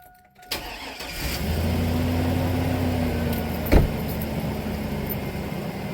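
A truck engine cranks and catches, then settles into a steady idle with a brief rev partway through, close and fairly loud, before dragging a wrecked 1989 Dodge Caravan SE.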